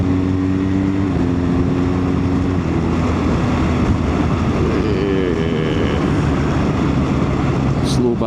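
Rising engine drone of a BMW 1200 RT touring motorcycle speeding up to pass on a coastal road, with a steady broadband roar and climbing tones throughout, close and loud under wind noise.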